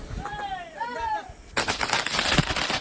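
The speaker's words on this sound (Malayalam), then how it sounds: "പടക്കം പൊട്ടിക്കലൊക്കെ തുടങ്ങി." Firecrackers burst during a Vishu festival celebration, a rapid string of sharp, loud crackling pops that starts abruptly after a few brief whistling tones.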